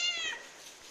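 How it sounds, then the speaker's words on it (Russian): Several cats meow in a hangar where three cats live, waiting to be fed; a short, close, high meow with a fading tail, no speech. "Так, теперь я буду кормить кошек."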